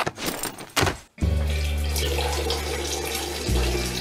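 Water gushes steadily and loudly from a tap, a continuous close rushing stream that shifts pitch slightly near the end, with a brief clatter just before it starts.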